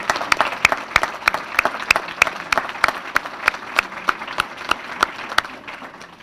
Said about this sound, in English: so can we just give him a round of applause and say thank you for what he's done?